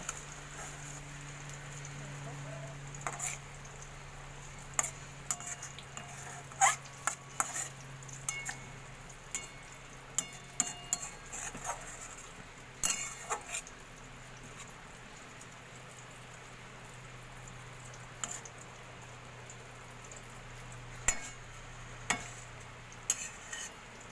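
Lote fish pieces in a simmering curry being gently turned in a pan, soft scraping and light clinks of a spatula against the pan scattered over a low, steady sizzle.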